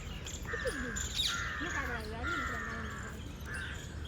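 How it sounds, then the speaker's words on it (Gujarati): Harsh crow caws repeat a few times, fairly close, mixed with a person's voice talking over them. "અંદર જો કાગડા હોતા ને ભેગા પાણી પીવે છે"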